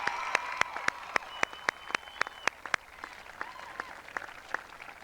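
At a 1995 high school commencement ceremony, the audience claps in sparse, distinct slaps that ring out in a large hall over a low crowd murmur, easing off toward the end.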